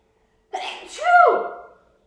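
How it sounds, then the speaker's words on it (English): A single loud, close sneeze starts with a sharp intake and ends in a pitched, voiced burst, then fades out in an otherwise quiet room. "I'm going to sneeze."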